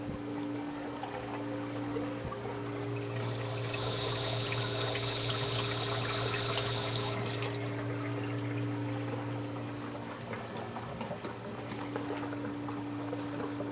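Fresh New Jersey blueberries rinsed under a running kitchen tap, a steady rushing stream that swells louder for a few seconds in the middle, steady hum underneath.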